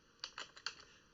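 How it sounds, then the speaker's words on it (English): About four quick, soft keystrokes tap out a formula on a computer keyboard, light and close with no voices. "So what we do is we just type our equal sign,"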